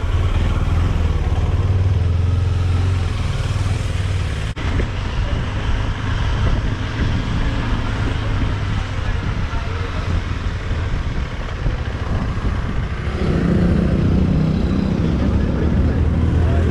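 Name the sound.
KTM 390 Adventure motorcycle being ridden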